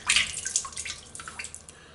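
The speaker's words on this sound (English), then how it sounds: "The brush, okay, dip in water." A shaving brush dipped into water in a bathtub for traditional wet shaving, giving soft splashing and dripping sounds, close and fairly quiet, fading over two seconds with no talking.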